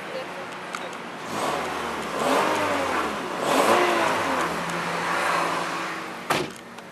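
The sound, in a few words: car engine revving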